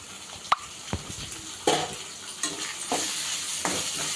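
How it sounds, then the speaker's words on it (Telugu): Tomatoes drop into a hot pan of frying onions with ginger-garlic paste for chicken curry, then a loud sizzle and scraping stirs follow in bursts, close by. "ఇప్పుడు అందులోనే టమోటాలు కూడా వేసేసుకుందాం."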